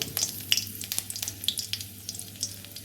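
Torn dried chilli crackles and sizzles in hot oil in a pan, with quick irregular pops and spits over a low steady hiss, close by.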